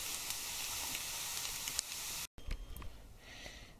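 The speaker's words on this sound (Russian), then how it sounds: "Вот грибочки поджарились, и сейчас мы добавляем гречку, лук и гречку." Mushrooms frying in a pan, with buckwheat and onion added, give a strong continuous sizzle with scattered crackles and a brief break before softer stirring and sizzling resumes.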